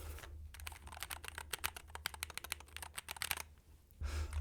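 Rapid, close typing on a Monsgeek mechanical keyboard with linear red switches: a quick, uneven run of crisp key clacks, then a pause before a low hum returns.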